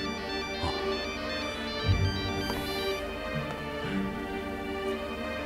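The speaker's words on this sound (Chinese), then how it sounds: "来电话了，接不接？" A mobile phone plays a melodic ringtone for an incoming call in a dramatized indoor scene, a steady repeating electronic tune that sounds continuously and close, with faint background noise and no speech.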